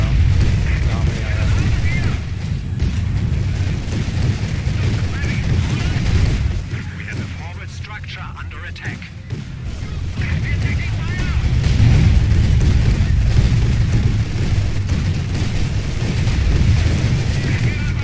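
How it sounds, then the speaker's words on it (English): Mortar fire and shell explosions in the strategy game Company of Heroes 2 make a continuous low battlefield rumble of dense thuds and booms that dips briefly midway and then swells again, with a voice talking over it. "Stop shooting mortars here."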